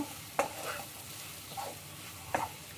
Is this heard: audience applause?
no